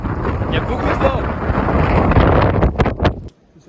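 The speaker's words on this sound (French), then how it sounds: "Il y a beaucoup de vent." Strong mountain wind at the Cirque de Gavarnie roars and buffets the microphone in loud, rough gusts, dropping away abruptly near the end.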